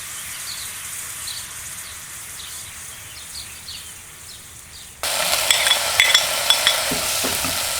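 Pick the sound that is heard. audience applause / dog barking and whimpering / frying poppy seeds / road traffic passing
frying poppy seeds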